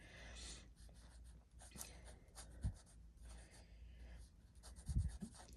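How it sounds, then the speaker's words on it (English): A pen with a nib writes a sample name on paper, producing quiet scratchy strokes with a couple of brief louder taps, close and alone with no talking. "I forgot to write the name here."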